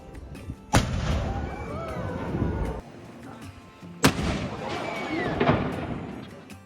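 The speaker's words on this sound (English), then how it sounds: "you're spending that amount of time to see them fire the cannon once" Edinburgh Castle's One O'Clock Gun cannon fires twice, each a sudden loud boom with a long rumbling tail, while a crowd murmurs and chatters around it.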